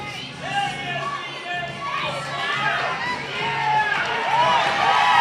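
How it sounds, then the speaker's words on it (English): A crowd cheers and shouts loudly and continuously at a fitness competition qualifier, dense voices and whoops swelling toward the end with an announcer's voice mixed in. "Guys, this crowd is going crazy"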